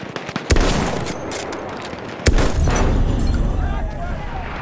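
Machine gun fire in the World War I shooter Battlefield 1, a dense continuous rattle of rapid shots with two heavy thumps, loud and close amid game noise.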